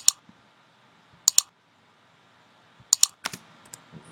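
Short bursts of computer keyboard typing, sharp close clicks in small clusters with quiet gaps between them, heard alone without talk.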